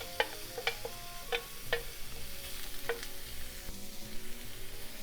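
Pork sizzles steadily in a dry frying pan over medium-high heat, with sharp clicks and scraping of a utensil stirring now and then, close and fairly quiet.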